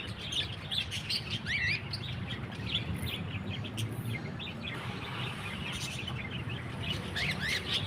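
Small birds chirp and tweet in quick, bright calls over a steady outdoor background, fairly close and continuous throughout.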